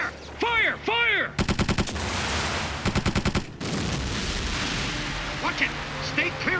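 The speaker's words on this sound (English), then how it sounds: "They're firing on us. We're taking hits to starboard." Anime naval battle at sea with bursts of rapid gunfire hitting a ship, two sharp volleys of rattling shots between rumbling blasts, loud and close, with voices shouting at the start and a lingering roar of engine and sea noise.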